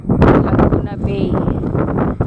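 Wind blowing over Laguna Bay, a steady rough gusting roar buffeting the microphone throughout, with choppy water and voices mixed underneath.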